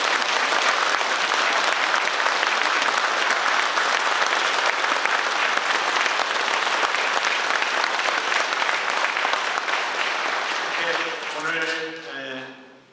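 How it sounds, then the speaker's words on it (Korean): A congregation at a Catholic thanksgiving mass gives sustained, loud applause for Bishop Kim Chang-ryeol Paulo, an even roar of clapping that runs on and then fades out at the end as a voice begins. "우리 김창렬 바오로 주교님께 큰 축하의 마음을 담아 큰 박수 부탁드립니다"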